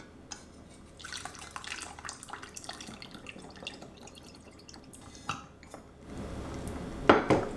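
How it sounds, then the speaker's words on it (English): Homemade sriracha hot sauce being poured into glass hot sauce jars, with soft liquid drips and light clinks of glass and utensils, close and fairly quiet, a louder clatter near the end. "we're ready to pour it into our hot sauce jars"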